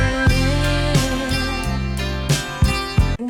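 Drums enter in a song, recorded music with sparse kick and snare hits pulsing over shimmering guitar and sustained chords, full and steady throughout.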